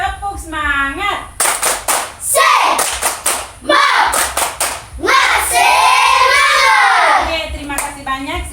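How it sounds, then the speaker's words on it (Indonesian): A class of children does a rhythmic spirit clap in a classroom, with bursts of sharp, patterned hand claps led by a teacher and mixed with the children's voices and shouts. "Kalau masih semangat, kita tepuk semangat dulu. Tepuk semangat."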